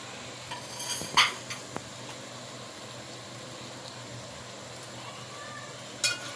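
A spoon stirs and mixes a spiced egg and potato curry in a pan, with quiet scraping, a few sharp clinks and a faint background sizzle.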